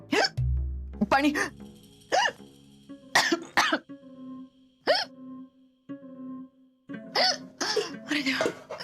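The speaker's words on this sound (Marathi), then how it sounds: "गेली उचकी." A man has a bout of loud, close hiccups, several sharp jerky gulps spread through the scene, with other people talking between them in a Marathi television drama.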